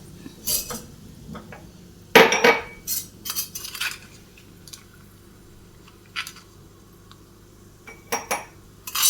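Roasted cashews and almonds being moved from the pan into a bowl, with scattered clinks and scrapes of a metal spoon against cookware, a louder burst of rattling nuts and utensil around the second mark, then quieter intermittent clatter.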